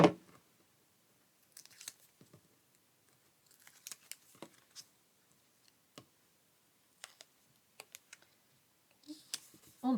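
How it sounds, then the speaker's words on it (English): Scattered snips and clicks of decorative scissors cutting paper, quiet and close, in irregular short bursts separated by near silence. "I'm using my fancy scissors to just cut around"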